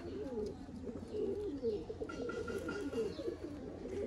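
Sialkoti pigeons cooing close by in a loft, soft repeated low throaty coos in overlapping rolling phrases with a faint chirp or two over quiet room noise.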